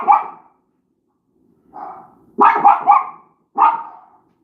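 A pet dog barks in a quiet home in the morning, a short bark followed by a tight cluster of three sharp barks and one more, close and loud with silent gaps between.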